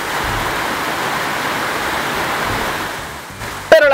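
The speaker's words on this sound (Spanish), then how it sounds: "Y la lluvia insana de fondo." Steady heavy rain hisses as a continuous broadband wash through nearly four seconds, easing slightly near the end before a brief sharp tonal blip cuts in; no talk over it.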